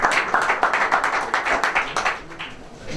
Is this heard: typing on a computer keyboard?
no